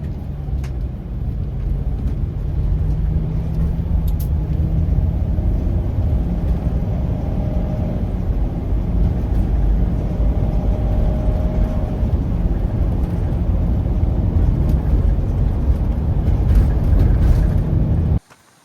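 A car drives along a road into the Yukon, its steady engine and tyre rumble filling the cabin at an even level throughout, with no talk over it, then cutting off abruptly at the very end.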